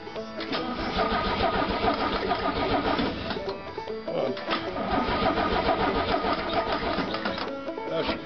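An old engine cranks over repeatedly and catches, running rough with a steady mechanical chatter, out of gear with no drive shaft fitted; people talk over the loud, continuous noise.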